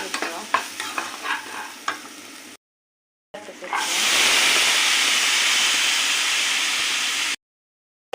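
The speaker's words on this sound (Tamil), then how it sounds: "வதக்கி வச்சுக்கலாம்." Carrot masala with tomato is stirred and sautéed in a pan: a few scraping stirs, a short gap, then a loud, steady close-up sizzle and hiss lasting several seconds, with no talk.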